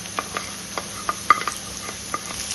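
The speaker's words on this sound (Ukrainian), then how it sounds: "Помішуючи, смажимо її до прозорості." Steady sizzling of onion frying in a pan, with regular light scraping taps from stirring throughout.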